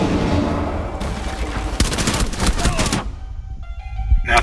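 Burst of gunfire in Rainbow Six Siege, a Border hostage team deathmatch, with a dense rapid volley in the middle amid game noise and some voice chat around it.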